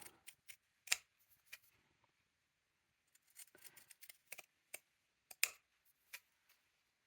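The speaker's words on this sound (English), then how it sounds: "come back in with your pinking shears to cut closer" Pinking shears snipping fabric close by, a quiet scatter of crisp clicking cuts in short uneven bursts separated by brief silences.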